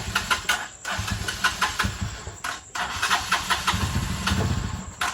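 A Rusi Macho 175 motorcycle engine sputters and stumbles through start-up, uneven bursts of revving broken by short dropouts, close and fairly loud.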